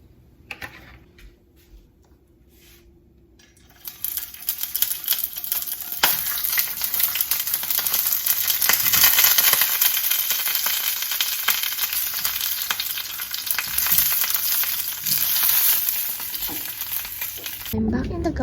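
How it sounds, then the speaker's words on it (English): Linguiça sausage sizzles in a pan after a few seconds of quiet, rising into a loud, dense crackle that holds steady and then cuts off near the end. "Now let's cook the linguiça."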